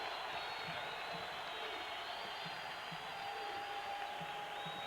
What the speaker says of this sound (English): And now the crowd will make some noise.